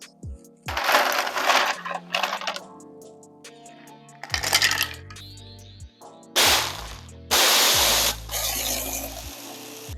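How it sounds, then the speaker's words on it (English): A blender roars in repeated bursts, grinding and crushing ice for a Blue Hawaii cocktail, with rattling, loud pulses separated by short pauses. "you're then going to add ice and blend or shake for 10 to 15 seconds."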